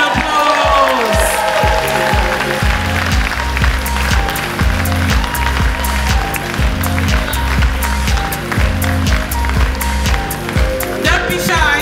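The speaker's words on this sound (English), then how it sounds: "Let's give them a round of applause." Applause from an audience at an awards ceremony for recognition and long service, a dense, continuous clapping that holds steady over a loud, rhythmic music bed with a heavy beat.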